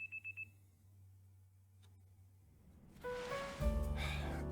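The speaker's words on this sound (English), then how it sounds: "The next day, your alarm is going off." An alarm clock in the video game Pokemon Legends Z-A sounds a quick run of high electronic beeps, faint and brief, before soft game music swells in.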